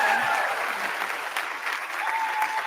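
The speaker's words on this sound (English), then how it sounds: "So let's give a big applause for Andrea McKemmy." Audience applause for a student at a biomedical sciences graduate lab coat ceremony, a full, continuous round of clapping from a crowd, with a faint voice or two briefly audible beneath it.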